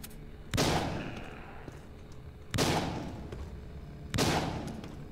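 Three loud, evenly spaced gunshots with decaying reverberant tails, fired at zombies in the video game Walking Zombie 2.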